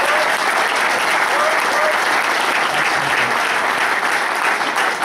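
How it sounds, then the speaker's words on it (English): A large audience at a football fundraiser event gives a big round of applause, loud, continuous and even throughout, with crowd noise blended in. "can we have a big round of applause for these two legends that we've seen tonight?"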